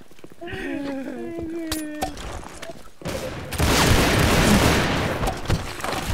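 Gunfire in the video game Blackshot, a burst of dense rapid shots that swells loud and continuous over the second half, following a stretch with voices talking and game chatter beneath.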